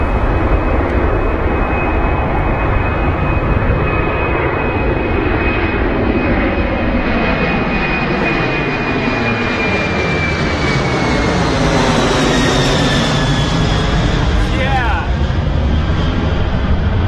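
A heavy jet airliner takes off at Heathrow Airport in low cloud, its engines giving a loud, sustained roar with a steady whine that slowly falls in pitch as the aircraft passes, continuous for the whole stretch.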